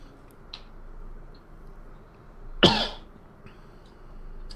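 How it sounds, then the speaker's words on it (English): A single harsh cough from one person, close and fairly loud, breaking a quiet background with faint ticks and soft noises around it. "pardon my coughing"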